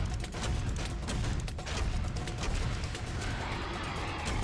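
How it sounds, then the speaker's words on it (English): Rapid gunfire while shooting enemies in the video game Serious Sam 3 BFE, a dense continuous barrage of shots and explosions filling the whole stretch, loud and unbroken, with no talking over it. "So I'll just probably shoot them all anyway."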